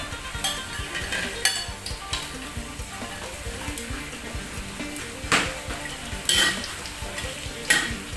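Small dried fish fry in a pan with a busy, crackling sizzle, broken by sharp spatula clinks and scrapes against the metal at irregular intervals.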